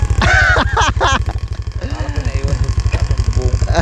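A motorized tricycle's engine putters steadily at close range with a fast, even pulse, while voices chatter over it.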